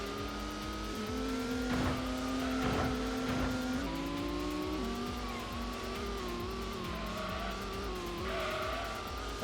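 A tuned race car in the Gran Turismo GT Mode Tuned Car Cup accelerates hard. The engine drone climbs and shifts through the gears, with brief scraping bursts, loud and continuous throughout.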